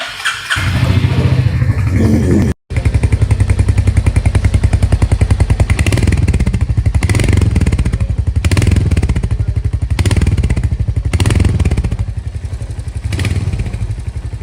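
A new 2026 Royal Enfield Hunter 350 single-cylinder motorcycle starts and idles loudly up close, a steady thumping exhaust beat with a few revs and a brief cutoff early on.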